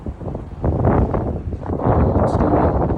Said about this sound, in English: the weather is so cold and windy outside